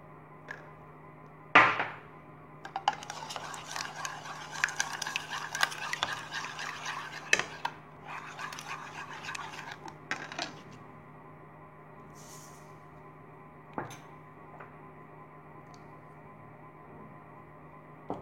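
A whisk clatters quickly against a bowl while beaten eggs are mixed with sugar and oil for a stovetop chocolate cake, a busy rhythmic tapping in bursts over a steady low hum, then quieter with occasional clinks.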